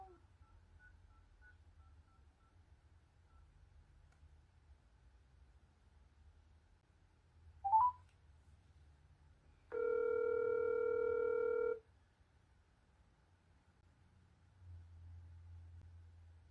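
A burst of touch-tone DTMF dialing beeps plays, followed by a steady two-second dial tone, both clear over a quiet low hum, with a faint click beforehand and no talk.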